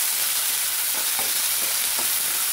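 Onions and curry leaves sautéing in a pan for a mullikkai kulambu, a dense continuous sizzle with soft scraping strokes of a spoon stirring through it, no voices.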